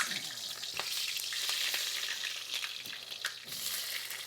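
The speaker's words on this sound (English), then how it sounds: "I'm just going to caramelize some onions, some scallion" Onions and scallions caramelize in a hot pan for a Jamaican jerk pork sauce, giving a steady close sizzle with occasional stirring scrapes and pops, no talking.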